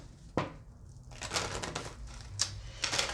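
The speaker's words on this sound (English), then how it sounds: "Just have a couple, actually 3 more decks I want to shuffle here before we get started." Decks of playing cards are shuffled repeatedly at close range, with quiet riffles and quick bursts of card flutter in short uneven bursts.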